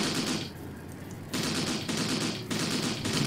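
Sustained automatic gunfire aimed at enemy infantry in Graviteam Tactics, a dense continuous clatter of rifle and machine-gun bursts with a brief lull before the firing swells again, loud and close, with no talk.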